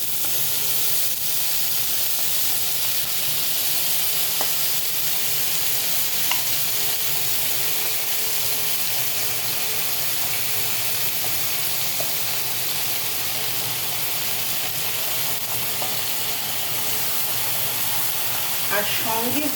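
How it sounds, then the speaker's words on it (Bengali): Boiled chicken pieces sizzle and hiss steadily in a hot pan for chilli chicken, a loud continuous fry with occasional spoon scrapes and stirring knocks, and soft talk can be heard underneath now and then. "এবার আমি এর মধ্যে দিয়ে দিচ্ছি এই সেদ্ধ করে রাখা"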